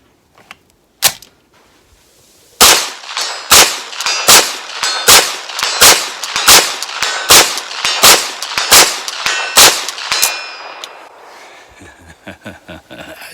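A PTR 9KT H&K MP5K clone fired from a bench at steel targets 100 yards out: one opening shot, a pause, then about fourteen sharp, loud reports in a fast steady string, each with a ringing metallic clang, trailing into faint clicks.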